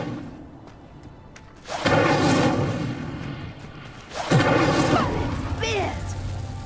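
An Incendio fire spell ignites a pyre in Hogwarts Legacy, two loud whooshing bursts of flame with crackling roar, each sustained for a couple of seconds, one after the other over a quiet background.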